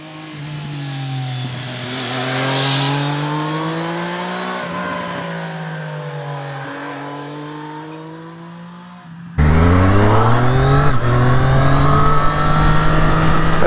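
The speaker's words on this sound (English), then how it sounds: "let's swing a leg over it and let's take it for a ride" A 2023 Triumph Street Triple RS motorcycle engine rises and falls in pitch as it is ridden through the gears, then jumps louder and closer after a cut, revving hard and steadily.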